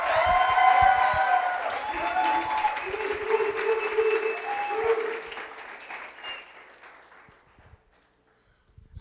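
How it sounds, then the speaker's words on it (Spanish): A congregation gives a warm welcome applause, loud clapping at first that gradually thins and fades to near silence, with tonal voices or music layered over the opening seconds. "Vamos a recibirlos con un fuerte aplauso de bienvenida."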